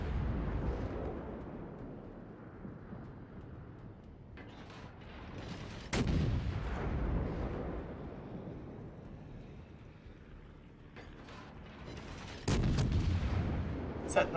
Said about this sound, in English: I'm going to fire at him again.